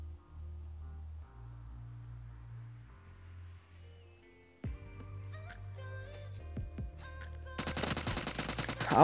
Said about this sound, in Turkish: O adamı vuracağım.